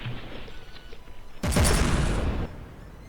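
Warship guns firing in the naval combat game From The Depths: a single dense, loud burst of gunfire that booms for about a second before cutting back to low background rumble.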